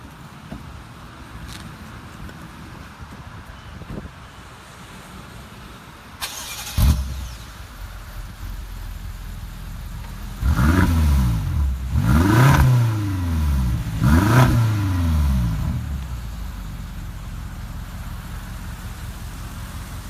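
A 2017 BMW X5 SUV cranking and catching into a steady idle, then three sharp, loud revs rising and falling in quick succession before it settles back to idle, heard close with no talk.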